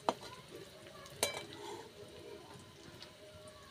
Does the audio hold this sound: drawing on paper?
no